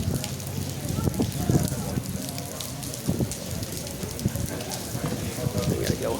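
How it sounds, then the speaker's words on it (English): Steady rain pouring outdoors at a gathering, a dense, even hiss of drops hitting surfaces, with a few voices in the background. "And we're not going to do the march since it's raining."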